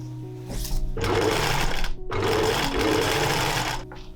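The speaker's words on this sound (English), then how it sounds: "I pinned a little note to each cut layer and then I could start with the sewing" A sewing machine stitches through layered dress fabric in two loud, close bursts of fast whirring, separated by a short stop.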